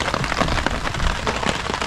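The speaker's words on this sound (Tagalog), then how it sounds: "ganitong ulan, tigatik to yung ulan na yan tigatik" Steady, dense rain drums on a car roof at a campsite, a loud continuous patter of drops with no voices.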